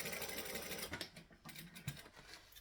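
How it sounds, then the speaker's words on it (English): Sewing machine top stitching a handbag, a quiet mechanical whir with irregular clicking stitches that slows and stutters partway through, fairly soft. "And then I'm going to top stitch along there."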